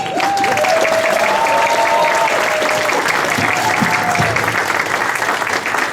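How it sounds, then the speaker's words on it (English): Crowd applause at a campaign kickoff event for a state senator, steady loud clapping throughout with a voice speaking over it. "How about a round of applause for our Attorney General, Keith Ellison."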